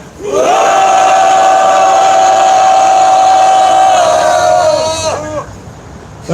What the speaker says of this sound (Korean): 힘찬 함성 질러보겠습니다.